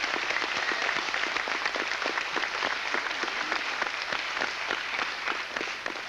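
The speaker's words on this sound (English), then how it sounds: "You may applaud." A 1995 Babylon 5 fan convention audience at the NEC Birmingham applauds, a continuous wash of many hands clapping, steady and even throughout.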